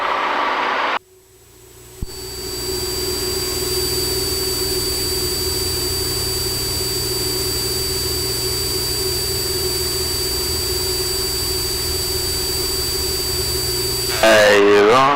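A small aircraft engine runs at steady full power during a low IFR takeoff from Edinburg, Texas, a loud continuous drone with a high whine and cabin noise, briefly cut out near the start, no talk.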